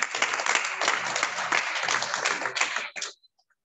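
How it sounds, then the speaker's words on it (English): An audience at a corporate service-anniversary event applauds, a dense, sustained patter of many hands for about three seconds before cutting off abruptly into near silence. "Please applause for that."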